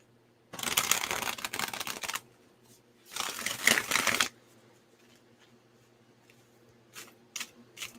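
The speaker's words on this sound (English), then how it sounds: "I love this deck, but damn, are the cards so thick? Like I can barely shuffle them" Thick tarot cards are shuffled in two loud riffling bursts, each lasting over a second, separated by a pause, with a few faint card taps afterward.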